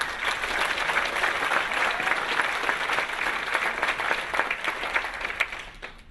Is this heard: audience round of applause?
yes